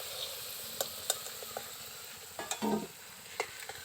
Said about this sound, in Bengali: এবার আলুটাকে একটু বেশ ভালো করে ভেজে নিতে হবে।